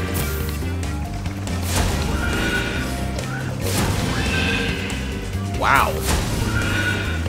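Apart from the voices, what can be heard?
horse neighing sound effect in Spyro video game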